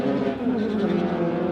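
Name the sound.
dedicated race car track car driving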